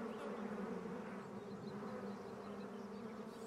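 European black bees swarming around their hives in the Cévennes in summer, a dense, steady droning buzz with a low hum, fairly faint and continuous with no voices.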